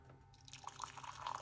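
Hot water pours into a large cup, a soft trickling and dripping stream that builds in level over a short stretch, faint and close with no talk.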